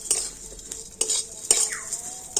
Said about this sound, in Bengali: আর ঘিয়ের সাথে সিমাইটাকে একটু ভেজে নেবো